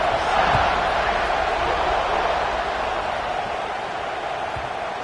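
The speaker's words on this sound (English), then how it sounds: "this crowd is buzzing after that last score" Stadium crowd buzzing in a college football video game, a steady broad roar of many voices held at an even level throughout, with no distinct cheers standing out.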